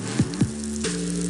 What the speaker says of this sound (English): That's the sound of Hungry Howie's hot, real mozzarella cheese melting over a bed of dough made fresh today.